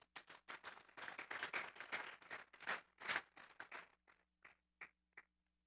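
A congregation claps at a Sunday church service, a quiet, somewhat distant burst of many hands that thins out into a few scattered, separate claps toward the end.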